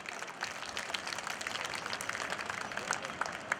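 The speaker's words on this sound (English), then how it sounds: "a big round of applause for the wonderful speech delivered by Professor Radar" Audience applause following a professor's speech at an evening gathering by the sea, a faint, distant and continuous patter of many hands clapping.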